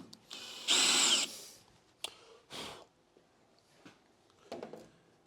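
A power drill whirs loudly in one brief burst as its bit drills into metal, followed by quieter clicks, shuffles and short scraping sounds.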